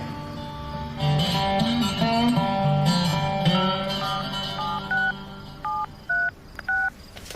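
A telephone is dialed at night in a family home, a string of short, evenly spaced touch-tone beeps sounding near and clear after a low murmur of background tones.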